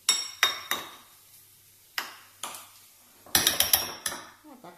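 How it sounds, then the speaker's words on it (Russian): A spoon clinks and scrapes against a bowl while minced meat is mixed with mayonnaise for meat stozhki, giving a few sharp, close knocks separated by pauses, with a quick cluster of clinks near the end. "Вот так перемешиваем."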